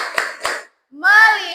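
Children in a classroom chanting a call-and-response focus clap routine, with two quick voiced bursts, a short pause, then a sustained sung syllable from many young voices together.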